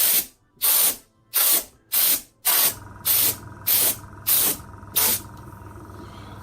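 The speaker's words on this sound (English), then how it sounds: "I'm going to take my compressed air, and I'm going to give this" Compressed air blasting dust off a logo base: eight sharp, near hissing bursts in steady rhythm, with a faint hum under the later ones.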